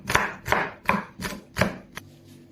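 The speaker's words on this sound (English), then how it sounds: "Now I am chopping my red bell pepper." A knife chops a red bell pepper on a board in a home kitchen, giving five crisp, evenly spaced strokes and one lighter tap, close and clear with no talking.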